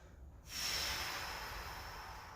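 A single deep breath drawn in during a home dynamic warm-up exercise, a sudden broad airy rush starting after a short pause and holding steady for about two seconds, close and fairly loud, with no talk over it.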